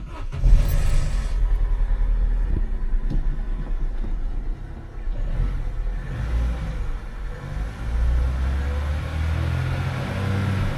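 A car's engine starts up and runs after a new coil pack and spark plugs have been fitted, giving a steady, loud low rumble with some revving that dips briefly midway, no talking over it.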